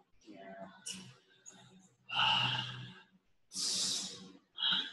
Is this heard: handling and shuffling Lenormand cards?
no